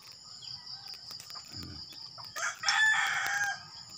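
A rooster crows in a backyard at dawn among fruit trees, a mid-distance call rising and holding for about a second near the end, over a steady bed of chirping insects and faint low background noise.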